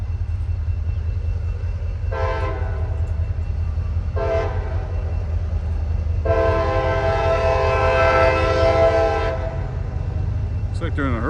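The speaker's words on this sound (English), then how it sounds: "Yeah, we got an intermodal train coming." A CSX intermodal freight train approaches over a steady low rumble, sounding its horn in two short blasts followed by one long blast, loud and close.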